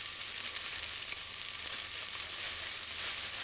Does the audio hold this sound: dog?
no